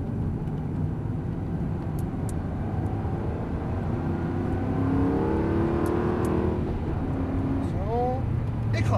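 Aston Martin V8 on a circuit, its engine note steady and close from the cockpit, rising in pitch as it accelerates out of a turn, with an instructor talking over it.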